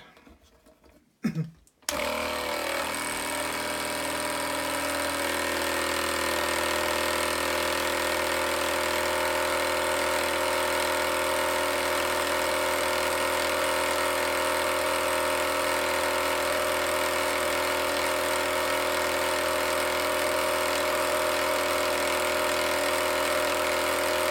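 A paint shaker spinning a bottle of paint for thirty seconds gives a steady, continuous motor drone with a rattling hum, after a brief handling knock at the start.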